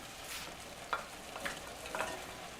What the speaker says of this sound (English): We're just going to cook the onions until they're translucent.